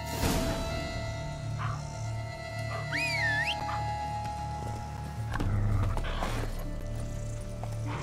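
Horse hooves clip-clopping in the video game Witcher 3: a steady, even rhythm of hoofbeats under a constant game hum, with a brief whistle-like rising tone and some faint incidental sounds.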